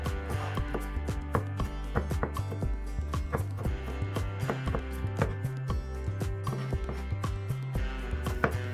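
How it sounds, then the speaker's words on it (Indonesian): A knife taps steadily on a cutting board while slicing crushed garlic cloves into small pieces, a quick even rhythm of crisp, close chops over a faint musical background. "Dan bawang putihnya aku keprok dulu, kemudian aku iris-iris menjadi bentuk yang agak kecil-kecil ya"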